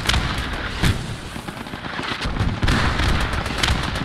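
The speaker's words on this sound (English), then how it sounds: "Sending another strafing run" An aircraft makes a strafing run in the WWII game Post Scriptum, at Arnhem. Heavy gunfire and booming impacts arrive in rough bursts, with several loud hits spaced through a dense rumbling bed. No one talks.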